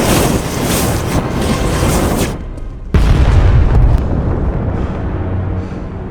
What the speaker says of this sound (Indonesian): Tak lama setelah Zuko menyadari ada bom jeli, perahunya meledak.